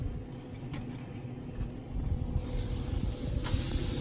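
Beef tenderloin sears on a smoker grill heated to about 635 degrees, giving a steady close hiss of sizzling fat that swells louder partway through.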